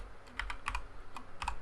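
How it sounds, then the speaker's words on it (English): Several quick clicks on a computer keyboard come in short clustered bursts, close and crisp over a faint low hum. "Why am I typing when I just cut and paste?"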